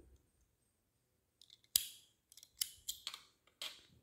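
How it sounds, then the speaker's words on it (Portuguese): Scissors snip crochet thread in a few sharp, close cuts, separated by brief quiet gaps, in a quiet room with no speech. "Eu vou cortar esse fio Só vou cortar o fio"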